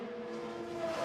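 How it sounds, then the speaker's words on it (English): IndyCar race cars at speed during the XPEL Grand Prix at Road America, a steady sustained engine drone with strong tonal harmonics that rise slightly in pitch near the end, loud and continuous with no talk. "you just see that massive train of cars going by at speed"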